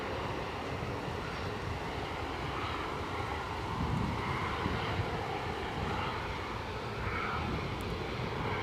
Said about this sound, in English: Just pick up the EasyJet as it squirts past